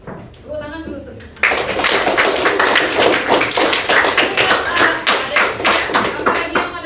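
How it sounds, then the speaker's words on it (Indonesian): A classroom of children claps hands together, a dense burst of sharp, fast claps that starts abruptly after a short moment of voices and keeps going loud and close to the end. "Tepuk tangan dulu tuh"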